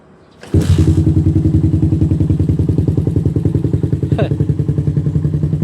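A Suzuki Raider 150 motorcycle with a 26mm stock carburetor, 125 jets and a racing CDI starts with one click and then idles loudly up close, a steady fast-pulsing thump with a brief blip near the end.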